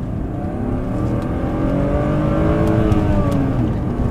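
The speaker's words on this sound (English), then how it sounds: "you can enjoy revving the car a little bit more with this" A BMW performance coupe, E36 328i Sport or 330ci Clubsport, revs hard and accelerates in a steady, rising engine drone heard from the cabin, loud and continuous with no talk over it.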